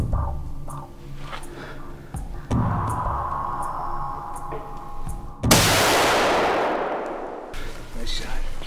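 A rifle shot at an elk during a Michigan hunt cracks loud and close, followed by a long fading rumble of echo through the woods, with sharp clicks and handling noise before it and brief quiet talk around it.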